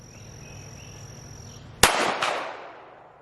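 A pistol fitted with a red dot sight fires at a target on a range, with one sharp loud shot and a quick second crack, ringing decay after a quiet stretch.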